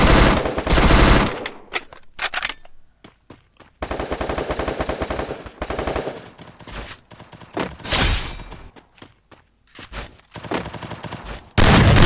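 Rapid automatic gunfire in the battle royale game Free Fire, loud and close, coming in dense bursts broken by brief gaps, with sharp impact and crack sounds throughout.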